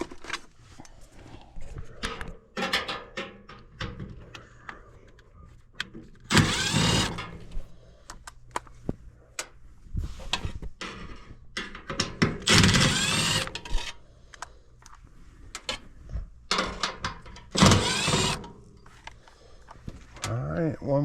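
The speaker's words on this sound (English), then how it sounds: "I gotta get those little screws in there." Small screws driven into an HVAC air handler, heard as repeated short bursts of a power driver whirring with clicks and metallic handling between them, fairly close, with someone talking intermittently throughout.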